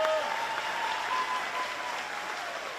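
A crowd at the Fancy Farm political event in Kentucky claps steadily, with dense sustained applause that fades slightly toward the end and no talk over it.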